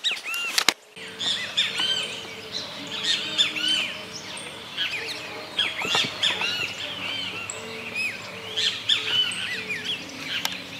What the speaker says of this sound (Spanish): Un grupo de tordos músicos comen la semilla del maicillo.